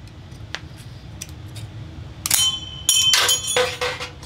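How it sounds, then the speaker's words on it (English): Tin snips cutting a metal bathroom fan duct, a few sharp metallic snips and clinks after a quieter start, close and loud. "if you have a pair of tin snips, we'll just try and cut this out"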